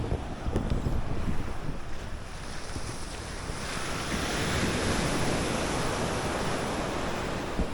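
Strong morning surf rolling onto a sandy beach in Aceh Singkil, a broad continuous wash of breaking waves with wind buffeting the microphone, swelling louder midway and staying steady with no voices.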